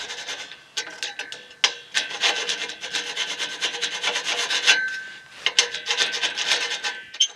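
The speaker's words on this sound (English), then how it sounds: "We can file it a little bit." Hand file rasping back and forth along a metal channel meant to hold polycarbonate panels, a close, loud run of rough scraping strokes with a couple of brief pauses.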